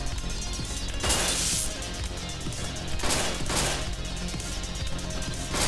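Dense rapid gunfire and crashing impacts from the video game Hotline Miami 2, a loud, busy barrage with two heavier bursts standing out, continuous and close with no talking over it.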